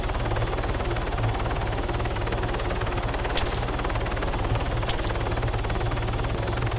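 Steady, loud helicopter rotor drone from a hovering and flying chopper in a Wasteland mod video game, continuous thumping with a couple of sharp transient cracks, no voices.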